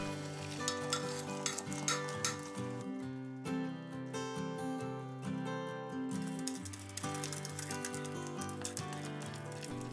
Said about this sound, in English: All I have to do now is add the boiling water and stir.